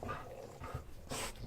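An excited pet dog at home yelps and barks in a few short, close bursts over steady background noise, with no talk.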